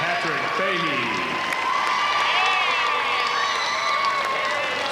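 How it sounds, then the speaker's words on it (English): Crowd applause and cheering for the team manager at a 1997 Illinois high school girls basketball Class AA championship game, a steady, full wash of clapping that fills the whole stretch with squeaky chatter on top. "The manager getting a big applause."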